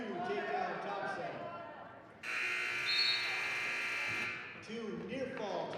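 A buzzer sounds at the end of a period in a high school boys' wrestling match, a loud, steady electronic tone held for about two seconds over crowd noise in a gym.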